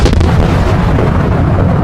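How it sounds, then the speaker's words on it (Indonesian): An energy attack explodes in an animated fight, a loud, dense rumbling blast that fills the whole moment with sustained low roar and no speech. "seketika serangan tersebut meledak di tangan Gui Myeondok yang sangat santai menahannya"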